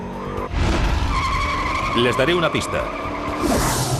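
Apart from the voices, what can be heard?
muscle car tires skidding, burning rubber on asphalt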